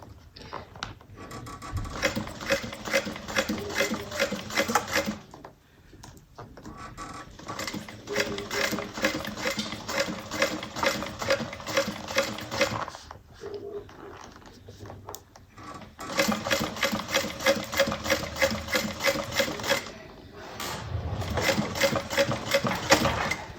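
A sewing machine stitching a Jasmine bag runs in three bursts of rapid, rhythmic clatter separated by short pauses, fairly faint and close, with a brief adjustment between runs.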